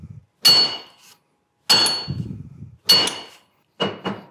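Repeated hammer blows drive a handle onto a tool head in a new garage: four bursts of sharp metallic strikes, each with a short ringing tail, spaced about a second apart, loud and close, with no talking.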